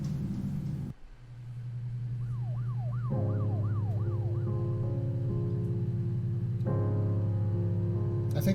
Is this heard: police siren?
yes